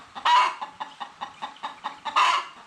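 A hen nesting in the engine bay of a Nissan Patrol clucks in a rapid, regular series of close, loud clucks, with a couple of longer squawks at the start and end.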